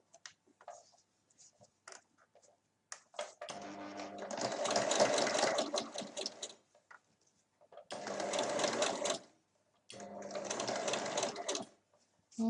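A sewing machine stitches a half-moon pouch in three separate whirring runs, the longest about three seconds. Soft handling noises and pauses come between the runs.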